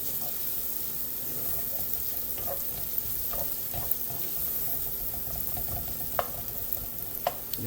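Onions fry in a pan on a flame between medium and high, a steady soft sizzle running throughout with occasional clicks and stirring sounds.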